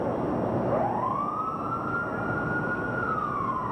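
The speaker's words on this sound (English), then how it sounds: "Three short blasts." A distant siren sounding three short blasts before a building implosion rises in pitch and holds a steady wail for a few seconds over a constant background rumble.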